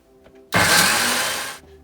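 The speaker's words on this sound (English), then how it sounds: "And into the blender we go." A countertop blender whirs loudly through half an onion being pureed for lahmacun, starting abruptly, running about a second at a steady high-pitched roar, then cutting off into a quiet kitchen.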